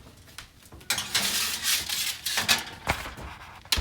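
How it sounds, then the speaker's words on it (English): A metal cookie tray of homemade chocolate chip cookies slides into an oven, with several close metallic clanks, scrapes and a rack rattle, then a couple of sharp knocks at the end. "let's go put this in the"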